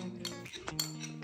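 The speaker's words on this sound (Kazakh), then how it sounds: "Аяла венчикпен әдемілеп араластырады" A whisk stirs cake batter in a bowl, producing soft, quick metallic clinks and taps against the bowl at close range, fairly quiet over a low background hum.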